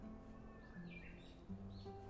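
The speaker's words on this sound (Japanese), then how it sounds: "聞こえますこの鳥の声" Faint bird calls and chirps drift over a steady background hum, with a few short melodic tweets scattered through a quiet Japanese garden among cherry trees in Hiroshima.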